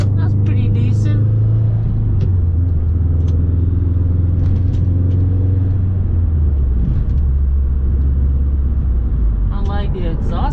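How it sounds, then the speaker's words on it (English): Exhaust rumble from a 2011 Subaru Impreza WRX hatchback making 265 horsepower while driving, a loud steady low drone heard from inside the car that shifts pitch as the engine changes speed. "I like the exhaust sound, rumbling."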